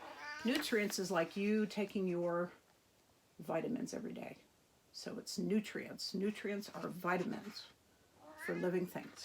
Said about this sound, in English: You guys can hear my kitty cat meowing.